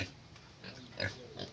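A pig kept at a village home in Sumba gives a few faint, low grunts and snuffles, spaced irregularly over quiet outdoor background.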